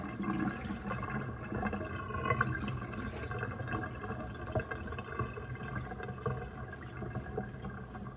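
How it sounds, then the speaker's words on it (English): Grapes are rinsed with distilled water, a soft continuous splashing and trickling of liquid, fairly quiet and close, with no talk. "I'm about to rinse these off 2 or 3 more times with this distilled water"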